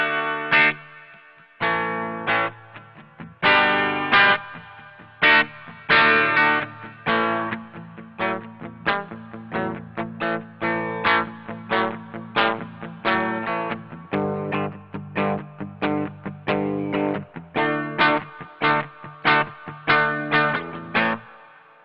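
An electric guitar played through a Hotone BritWind Pro with reverb switched on, a run of strummed chords and picked notes, loud and close, with a wash of reverb trailing each hit.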